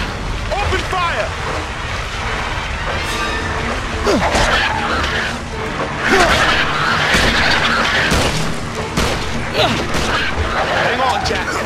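Soldiers' gunfire and explosions from the King Kong game crackle and thump through a chaotic scene, with sharp shots scattered over a rumbling, screeching backdrop and voices shouting now and then.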